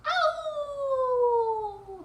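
A storyteller's voice imitates a wolf's loud howl in a fairy-tale reading, one long sustained wail that starts high and slowly glides downward over about two seconds, heard alone.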